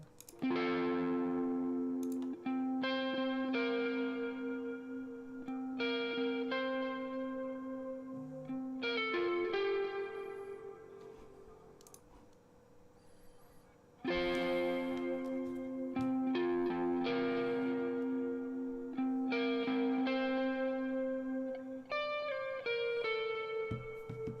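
A distorted electric guitar plays chords and sustained notes with chorus and echo effects, alone and fairly loud.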